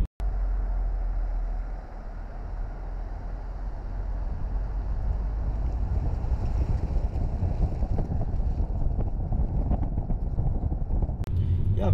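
Steady, loud interior drone of a VW Touran 1.8 TSI Highline on the move: a continuous low engine and road rumble that fills the cabin from start to finish, with a slight swell in the last seconds.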